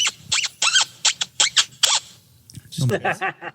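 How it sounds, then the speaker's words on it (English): A small squeaky toy duck or stress ball gives a run of six sharp squeaks in quick succession, close and loud, followed by someone talking. "What was that squeaky sound?"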